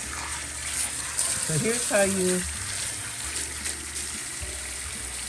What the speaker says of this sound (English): I'm constantly watching the flow of water in the shampoo bowl